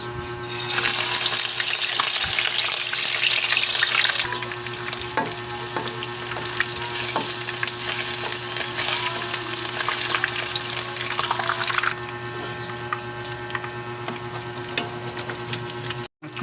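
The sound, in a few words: frying shredded papaya and shrimp fritters in oil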